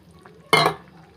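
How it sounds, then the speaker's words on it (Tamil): Tamarind water pours into a boiling mixed-vegetable kuzhambu in a pot, one short, loud splash and sizzle that quickly fades. "புளி தண்ணியை சேர்த்துக்கிறேன்"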